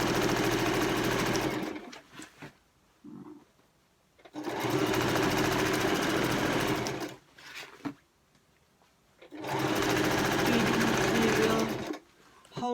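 A sewing machine stitches a seam on a scrub laundry wash bag in three steady whirring runs, separated by pauses where a person talks while guiding the fabric.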